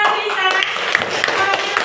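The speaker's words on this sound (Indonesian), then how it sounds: "Tepuk tangan untuk Isa" Classroom applause for a student who answered a question: a short burst of hand clapping from the class, with children's voices mixed in.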